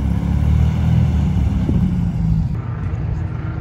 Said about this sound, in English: The buggy is leaving. That thing is loud as hell.